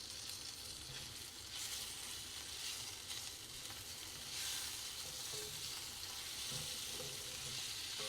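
Butter melting and sizzling in a pan with garlic and tomato puree while cooking in a campervan, a steady close frying hiss that keeps up evenly with slight swells and no talk.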